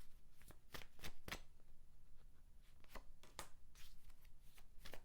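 Tarot cards are shuffled close by in a quick series of sharp riffling flicks that repeat irregularly throughout, with no talking.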